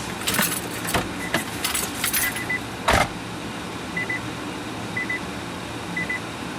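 Car keys jangle in short metallic bursts as they are pulled from a 30 kWh Nissan Leaf, followed by a repeating pair of electronic warning beeps from the car at steady intervals over a low cabin hum.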